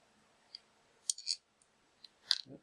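A T-bolt nut is tightened onto a Y-axis carriage assembly: a few quiet, sharp metallic clicks and snaps, with a short cluster of clicks near the start and another near the end, heard alone and close.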